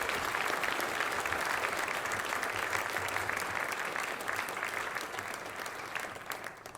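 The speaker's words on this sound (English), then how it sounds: "Please give them another round of applause." Audience applause at a press conference, a sustained wash of clapping from a crowd that holds steady and then begins to taper off toward the end.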